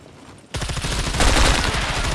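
Gunfire in the video game SCUM bursts in after a brief hush, then a loud, sustained rattle of rapid shots continues to the end.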